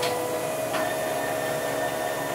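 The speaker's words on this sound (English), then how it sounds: "The printer's making some weird noises." An office printer running a cleaning cycle, giving a steady mechanical whir with a sustained tonal hum and a couple of brief higher-pitched swishes, fairly close, with no voices.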